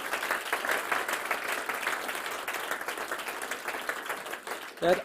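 Audience applause for sixteen startup finalists at a German startup tour grand final, a steady dense clapping that fills the hall for about five seconds before a brief louder burst near the end.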